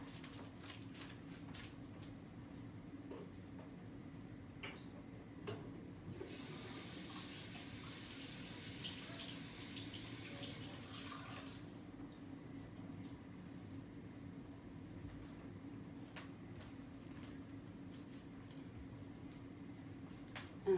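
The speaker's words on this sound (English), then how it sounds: "I'm gonna wash my hands." Water runs from a tap into a sink for handwashing, a steady rushing stream for several seconds amid quiet background hum and faint clicks.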